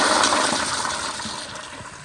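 A 2019 Kohler Highcliff Ultra toilet on the 1.28-gallon setting flushes up close, a loud rushing swirl of water that gradually fades over about two seconds, with no voices.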